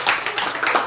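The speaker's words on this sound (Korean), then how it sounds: "박수를 쳐야지. 박수 치고, 우후! 해야지." Several people in a lecture audience clap their hands together in a short, close burst of applause.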